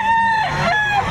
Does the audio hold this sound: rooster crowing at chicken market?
yes